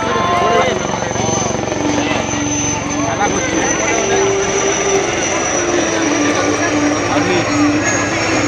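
Steady rotor and engine drone of a Chinook helicopter flying at an air show, a continuous loud whirring roar that holds throughout, with an announcer talking over it.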